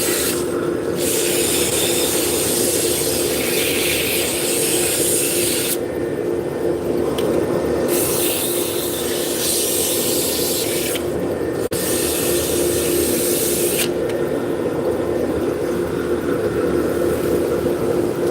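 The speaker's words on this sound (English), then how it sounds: "Turn the speed down on the lathe and we'll start sanding it out." Sandpaper rubbing a turned wooden piece spinning on a lathe at reduced speed, a steady close rasping hiss over the motor's hum, broken by a few short pauses as the paper lifts away.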